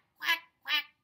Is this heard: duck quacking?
yes